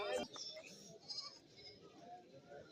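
Several goats bleat among the stalls of a Kerala goat market, with a sharp nearby call at the start and softer bleats under steady crowd noise and nearby talking.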